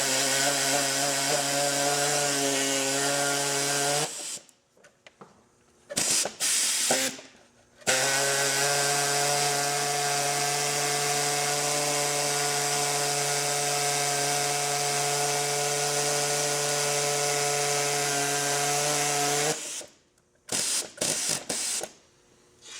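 An air-powered tool whirs and rattles in long bursts, losing pressure as the compressor air runs out, with abrupt cutoffs and short stuttering restarts between runs, close by.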